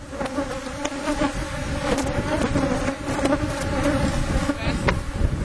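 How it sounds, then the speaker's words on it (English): A dense swarm of honey bees drones steadily around their hives during a close inspection, a loud continuous buzz with no pauses. "just in case you thought there weren't enough bees here"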